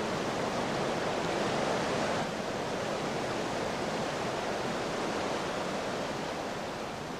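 Spray and roar of a waterfall depositing limestone: a dense, even, broadband rushing hiss that continues unchanged throughout, with no voices.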